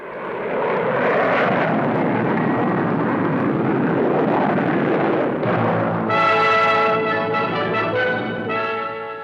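A fast-climbing jet fighter built for high-altitude bomber interception roars past in a continuous loud, broadband blast, shifting at the end into a harsh whining tone as it passes.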